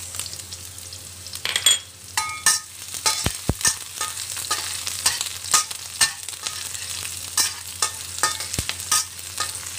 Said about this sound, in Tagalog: Gisa lang po natin hanggang mag-brown yung ating sibuyas at bawang.